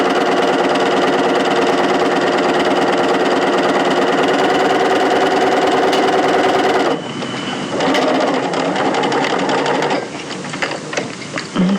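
A sewing machine stitches the first inside seam of a jeans-style pocket bag. It runs loud and close with a fast, steady whirring rhythm for about seven seconds, then slows and stops.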